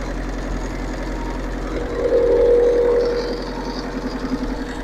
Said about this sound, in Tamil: இன்ஜின் சவுண்டை கேளுங்க